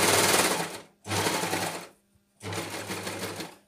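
Sewing machine stitching a jersey neckband onto a T-shirt runs in three loud, steady bursts of rapid stitching, separated by short pauses, close up with no talking.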